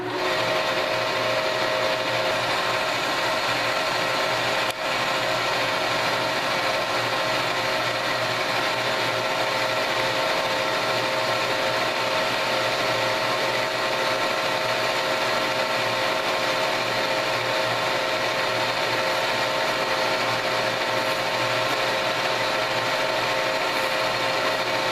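A machine tool chamfers the edge of the threaded section and counterbore on a screw jack base, giving a constant, even whirring hum with a faint high whine and one brief tick partway through.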